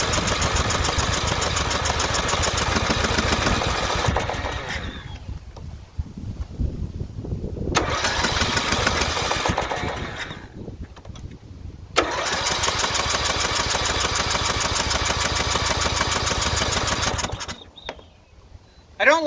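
A tractor engine cranks over and over without catching, in three long bursts of steady, loud, mechanical whirring separated by quieter pauses.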